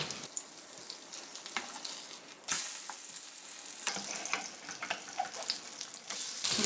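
A mung bean pancake sizzles and crackles in hot oil in a pan, with scraping and a louder burst as it is flipped, frying steadily and close.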